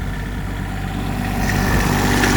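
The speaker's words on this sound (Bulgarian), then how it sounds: "Ей, сега ще ви покажа мотора." A worn excavator engine runs at a steady idle close by, a low continuous droning rumble that grows slightly louder and rougher toward the end.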